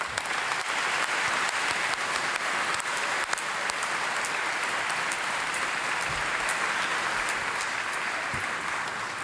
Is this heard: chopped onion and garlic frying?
no